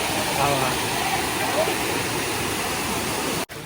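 Water rushes beside the Kanheri Caves in Sanjay Gandhi National Park, Borivali. The flow is a steady, loud, broadband wash that holds evenly, then drops out for a moment near the end.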